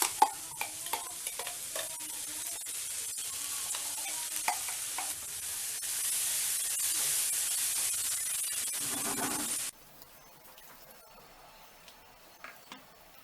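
Ground paste for mushroom curry sizzles and spatters in a hot pan while a spoon scrapes and stirs, the crackle swelling loudly before cutting to a quieter simmer with occasional clicks.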